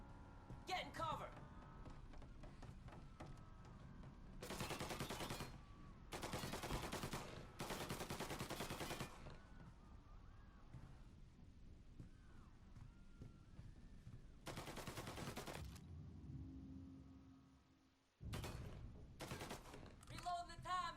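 Bursts of Tommy gun automatic fire in the Mafia Definitive Edition video game, several loud sustained volleys separated by pauses, with voices talking in between and a short drop to near silence before the shooting resumes.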